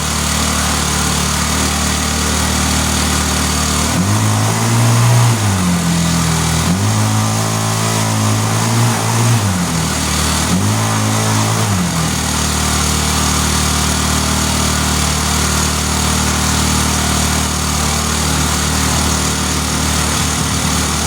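A Hot Wheels gas go-kart's small engine idles steadily and loudly up close, with a few brief rises in pitch from throttle blips near the start, then settles into a constant drone.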